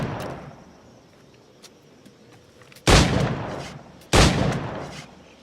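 Two loud, close flintlock-style firearm shots crack about a second apart in Assassin's Creed IV Black Flag. Each blast rings out over a quiet background.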